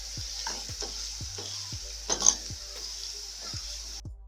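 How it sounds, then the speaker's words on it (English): Potatoes fry in a pan for a potato omelet while a utensil mashes and stirs them, giving a steady sizzle broken by regular scraping strokes about twice a second. "you mash them as you stir them"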